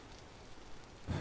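Rain falls steadily in the video game Vintage Story, a soft continuous hiss of drops with a louder burst of splashing at the end.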